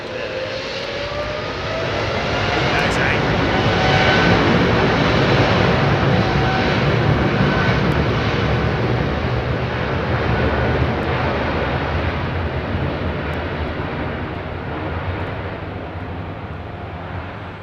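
A One Air Boeing 747 freighter departs Heathrow's runway 27R, a loud, steady jet roar that swells and holds across the whole stretch with no voices over it.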